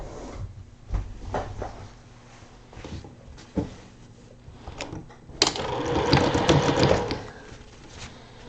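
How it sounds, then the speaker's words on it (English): Home sewing machine stitching two fabric pieces together while sewing a partial seam, a faint rhythmic hum at first that swells into a louder, steady mechanical whir in the last few seconds. "So I'm going to go ahead and sew those together."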